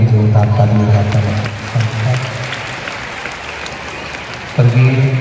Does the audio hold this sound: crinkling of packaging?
no